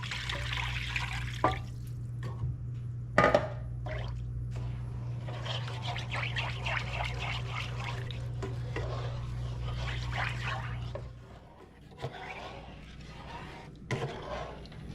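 Four cups of water poured into a pan while cooking smoked turkey sausage and Spanish rice: a steady splashing, gurgling stream runs for about eleven seconds, then gives way to a few scattered knocks and drips.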